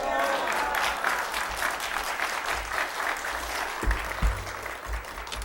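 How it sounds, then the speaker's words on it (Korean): A church congregation claps warmly to welcome the pastor onto the stage, a thick continuous burst of applause with low thumps and a few faint voices mixed in near the end. "우리 목사님 나오실 때 할렐루야 큰 소리로 외치며 뜨거운 박수로 환영합니다."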